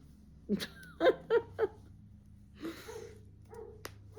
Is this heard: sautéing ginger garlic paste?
no